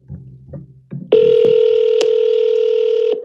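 Phone dialing tones sound close and loud: a couple of quiet low blips, then a steady ringback-style tone holds for about two seconds, broken by a few short clicks or beeps.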